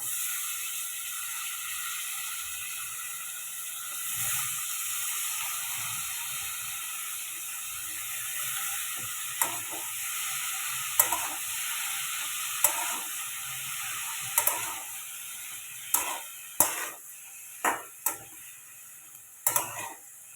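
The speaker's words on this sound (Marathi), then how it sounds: "घेवड्याची शेंग धुवून घेतली मी आता ही सगळी शेंग त्यामध्ये ॲड करते" Washed flat bean pods fry in oil in a kitchen pan, producing a steady background sizzle broken by a series of sharp clicks and knocks that grow more frequent toward the end.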